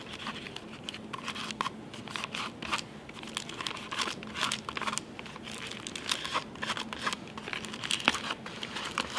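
Tape being folded over a fuel canister produces close, continuous crinkling and rustling with sharp irregular crackles throughout.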